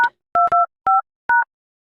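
Phone keypad dial tones beep as a code is entered: about five short, clear electronic tones in an uneven rhythm, close and loud against silence.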